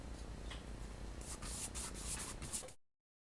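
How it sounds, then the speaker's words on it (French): A palette knife spreads gesso across a canvas to lay a background, a quiet close scraping rub with a few short strokes before the sound cuts off. "Donc là, j'applique le gesso"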